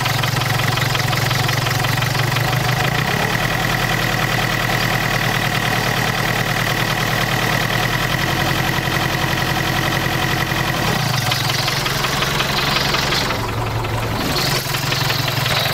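A car engine fitted with glow plugs runs loudly up close, first with a rough, knocking idle, then rising in pitch and intensity as the throttle is opened and dropping back again, with the revs climbing once more toward the end.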